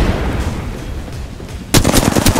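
Gunfire in the video game Apex Legends: a low ambient bed gives way to a sudden, loud burst of rapid automatic shots in the final second, close and sharp.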